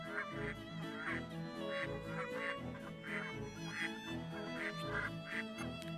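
Ducks honking inside a house in the video game Baten Kaitos, repeated quack-like honks in a steady rhythm over looping game music, faint and even.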